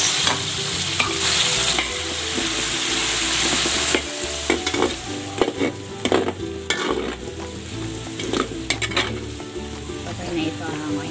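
Carrots frying in cooking oil for pork menudo make a loud, continuous sizzle in a pan, broken by scraping stirs and clinks throughout.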